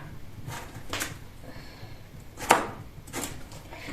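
A knife chopping green onion stalks on a board, a few separate soft thuds spaced apart, with one sharper, louder cut near the middle.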